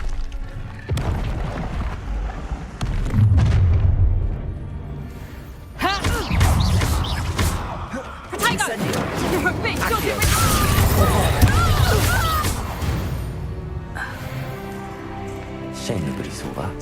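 A fire spell blast in Hogwarts Legacy: loud booming bursts of magic around the 1, 6 and 9 second marks over dense game music and effects, with no clear talk.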